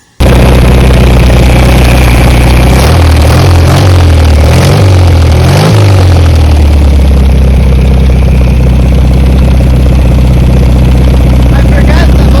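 A Volkswagen Baja Bug engine, started for the first time in 46 years, runs loud and close with a steady low idle and several throttle blips, then settles back to a rough, even idle.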